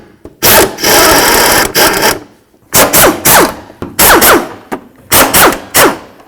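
Power tool backing out the fan shroud mounting bolts on a 1994-2004 Chevy S-10, loud close bursts of rapid rattling whir, about five separate runs with short pauses between.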